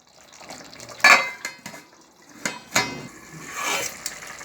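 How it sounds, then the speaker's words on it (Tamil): A spoon scrapes and stirs Chettinad-style mutton biryani from the bottom of a cooking pot, giving a few sharp metallic clinks and scrapes with softer rustling of rice in between, fairly close and without any talking. "நல்லா அடியிலிருந்து கிளறி விடுங்க."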